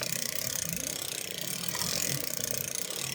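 Turning the tension dial on a circular sock knitting machine gives a continuous run of fine ratcheting clicks at close range, steady and quiet, with no speech.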